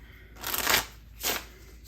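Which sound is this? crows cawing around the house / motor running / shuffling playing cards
shuffling playing cards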